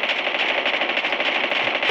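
Rapid automatic gunfire from a Call of Duty video game, a dense, steady stream of shots lasting the whole moment with no talking.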